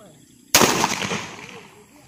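One loud rifle shot cracks out close by during a deer hunt, a sudden blast followed by a long rumbling echo that fades over about a second and a half.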